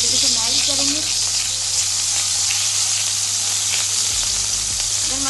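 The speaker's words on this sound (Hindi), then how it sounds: "यहाँ पर 2 टेबल स्पून के करीब यहाँ पर मक्खन ऐड कर रहे हैं। मक्खन अच्छे तरीके से मेल्ट करेंगे" About two tablespoons of butter melting in a pan, giving a constant dense hiss and sizzle close up with a low hum underneath and no clear speech.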